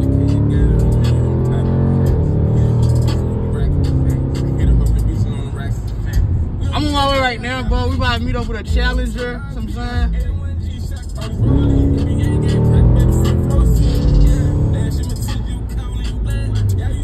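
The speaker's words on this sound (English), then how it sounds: "As you can see right now, bro, we stuck in traffic" Cars and a bus rumble and rev in slow road traffic around a 2021 Jeep SRT, a steady low engine drone throughout, while someone talks over it.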